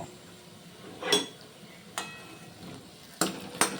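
Lentil fritters are lifted out of hot frying oil, with a low background sizzle broken by several sharp scrapes and clinks of a utensil against the pan, close and fairly quiet.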